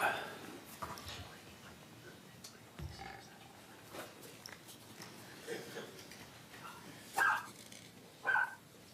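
A couple of short, sharp dog barks, somewhat distant, rising out of a quiet room with faint background murmur.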